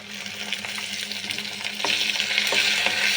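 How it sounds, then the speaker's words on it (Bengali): Spices frying in a pan with browned onion, cumin and garlic for a beef curry, a close, continuous sizzle that swells louder partway through, with spatula scrapes and stirring, no talking. "মশলাটা দিয়ে এখন আমি একটু একদম ভাজা ভাজা করে নেব যাতে এখানে কাঁচা গন্ধটা না থাকে"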